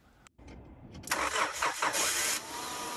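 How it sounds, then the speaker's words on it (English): A car engine, jump-started with renewable energy from a kiteboat's regenerative reel, cranks and then catches with a rising roar that settles into a steady run, with no talking. "a car jumped by renewable energy"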